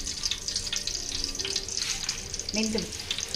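Fenugreek seeds frying in oil for a home-cooked fish curry give a steady, close hiss and faint crackle, with brief clinks near the end and a soft voice in the background.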